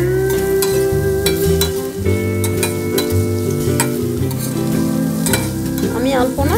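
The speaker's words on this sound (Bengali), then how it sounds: "নেওয়ার পরে ওই তেলে পেঁয়াজ কুচি দিয়ে দিচ্ছি।" Chopped onion fries in oil with fenugreek and mustard seeds for a fish curry, a loud close sizzle under steady stirring scrapes, with tonal background music running over it and no talk.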